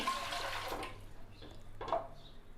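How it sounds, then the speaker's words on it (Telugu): A glass of water is poured into an idli steamer pot on the stove, a soft splashing pour that swells and fades over a couple of seconds, faint and close. "దీనిలో ఇప్పుడు ఒక గ్లాస్ వాటర్ పోయండి"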